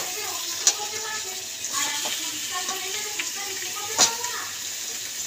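Chicken pieces added to fried onions in a pan, sizzling steadily with a continuous crackle, a few sharp clatters and stirring scrapes throughout, close and moderately loud.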